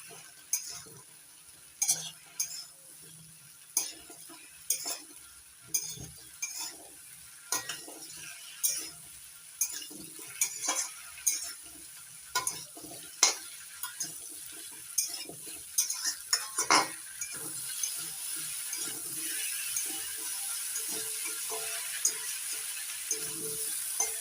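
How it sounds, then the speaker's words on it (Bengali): Chopped vegetables such as beans and carrots stirred with spices in a pan for sambar, repeated close scraping strokes over a low sizzle that grows louder toward the end. "কেটে নেওয়া সব সবজি দেওয়ার পর এবার ভালো করে মিশিয়ে নিচ্ছি মশলার সঙ্গে।"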